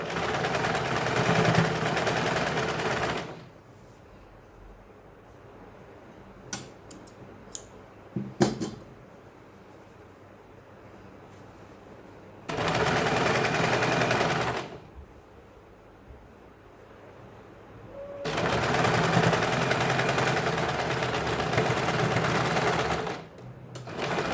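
A sewing machine stitches a straight seam on a blouse in three close bursts of steady motor whir, with quieter gaps between them holding a few sharp clicks and handling sounds.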